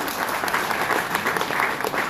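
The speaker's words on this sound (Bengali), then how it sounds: "সবাই সবার জন্য একটা জোরে সোরে করতালি হবে" Steady applause from an audience at a corporate training seminar, dense clapping filling the room evenly for a couple of seconds with no pauses.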